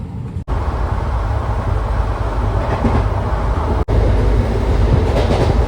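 A passenger train on the Tirupati to Puducherry route near Renigunta runs with a loud, continuous low rumble and rattle heard from inside a carriage, with two brief dropouts and no voices.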